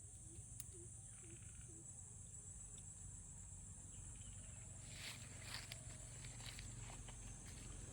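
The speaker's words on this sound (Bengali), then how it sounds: "চারপাশে শুধু শোনা যাচ্ছে ব্যাঙের ডাক আর ঝিঝি পোকার একটানা শব্দ।" At a quiet, deserted rural spot, crickets keep up a continuous high, faint drone, joined early on by a few soft, low croaks, likely frogs, over a low background hum.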